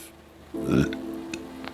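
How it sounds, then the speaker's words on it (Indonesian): A single deep, drawn-out human burp rises near the middle of a quiet indoor stretch, loud and close against light room noise. "Maaf, ya, sendawa."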